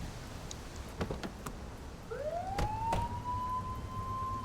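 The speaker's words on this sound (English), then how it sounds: "Why is my siren on?" A police car siren sounds in the video game The Precinct, a rising tone that swells and then holds a steady wail, with a few sharp clicks and thumps underneath.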